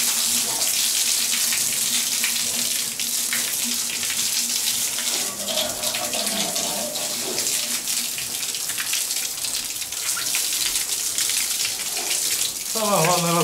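Water runs steadily from a tap, rinsing off a surface just scrubbed with a brush, a continuous splashing hiss with a few faint clinks and a short burst of noise near the end.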